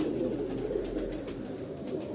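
A show pigeon with white eyes and blue piping coos softly and steadily at close range, a low murmuring drone that lasts the whole short moment with no talk over it.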